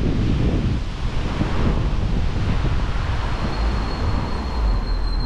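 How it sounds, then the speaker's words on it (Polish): Strong wind buffets the microphone in a steady, loud, broadband roar throughout, heard outdoors beside a small roadside church in Łaziska, Poland, during a bicycle ride. "Ależ to tu wieje."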